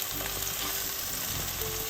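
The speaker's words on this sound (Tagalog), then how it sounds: "Babali-baligtarin ko po hanggang sa mag-golden brown." Bananas frying in a pan: continuous oily sizzling, a steady close crackle with faint stirring scrapes and no talk.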